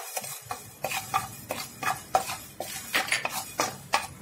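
Coriander seeds dry roasting in a pan for Malvani kombdi vade bhajani, giving a steady run of sharp crackles and light ticks about every half second, close and moderately loud with no talk.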